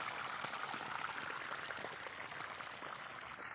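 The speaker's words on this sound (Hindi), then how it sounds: "ये देखो पानी बह के इधर जा रहा है" Irrigation water flowing across a mustard field at dusk, a steady soft broadband rush and trickle that holds even and continuous throughout, close by with no talking.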